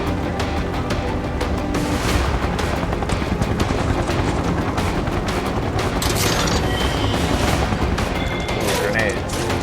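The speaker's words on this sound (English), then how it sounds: "Grenades." Blasts and bursts of gunfire fill a battle in Final Fantasy VII Remake, with grenade explosions booming through dense, continuous combat noise, loud and constant alongside game music.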